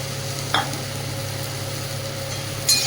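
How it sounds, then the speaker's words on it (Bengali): Shrimp, eggplant and potato sautéing together in a pan, a steady low sizzle with two brief scraping clinks of a utensil, close by and without talking. "চিংড়ি আর বেগুন আলু সব একসঙ্গে এই যে কষিয়ে নিচ্ছি"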